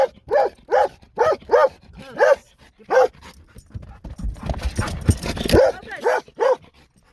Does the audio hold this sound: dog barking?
yes